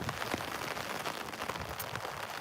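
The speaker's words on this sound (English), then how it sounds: "But it's never stopped raining." Rain falling outdoors during a walk in Krakow, Poland, a steady hiss of drops on pavement and surfaces, continuous and moderately faint with no voices.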